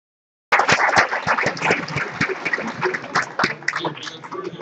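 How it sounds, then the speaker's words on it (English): A crowd at the Ballina Salmon Festival 2015 launch night breaks into applause, starting abruptly after a moment of silence and continuing as dense clapping that gradually thins out. "Round of applause once again, please."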